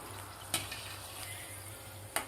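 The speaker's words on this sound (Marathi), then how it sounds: "थोडासा गोल्डन कलर होईपर्यंत आपल्याला ही पुरी तळायची आहे." Puri deep-frying in hot oil, a steady soft sizzle with a couple of sharp clinks of a slotted spoon against the pan, no talk.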